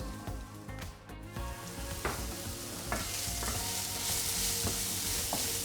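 Onions sizzle steadily in hot oil in a home kitchen pan, a continuous close crackle with occasional stirring clinks and scrapes and no voices.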